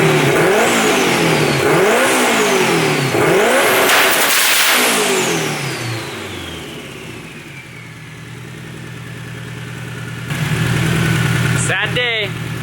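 A 600 hp turbo Honda Civic engine with zero compression revs hard three times up to its 8,500 RPM limiter, each rising sweep falling back, then settles into a rough, loud idle before a brief clatter.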